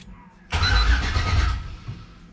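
A Low Country engine cranks over roughly and tries to catch, a loud, churning low rumble that begins abruptly, holds steady for about a second, then sags without firing into a clean idle.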